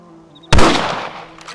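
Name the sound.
rifle gunshots in the video game Red Dead Redemption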